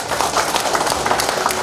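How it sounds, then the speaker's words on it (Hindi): An audience claps steadily in a hall during a business presentation, the sound dense and continuous, loud and close throughout with no talk over it. "एक बार और ताली बजाइए।"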